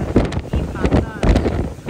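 Strong gusting wind from Cyclone Fina in Darwin buffets the microphone in heavy roaring bursts, with a person talking over it throughout.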